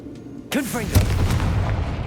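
A Confringo blasting spell bursts in the video game Hogwarts Legacy, a sharp booming explosion with a whooshing magical sweep that rumbles and fades over the next second, heard just after a short spoken line.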